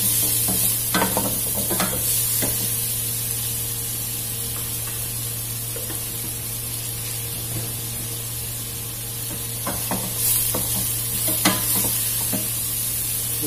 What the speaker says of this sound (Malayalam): ഉള്ളി നന്നായിട്ടൊന്ന് ഫ്രൈ ചെയ്യണം.